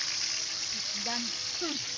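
Soft, steady sizzling of food frying in oil, with faint voices talking in the background, cooked over a firewood fire.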